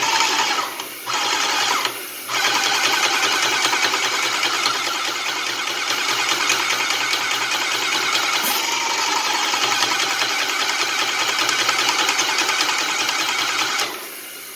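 An airless paint sprayer's motor and pump run steadily while priming, producing a loud, continuous mechanical whir and buzz with two brief dips near the start, then cutting off at the end.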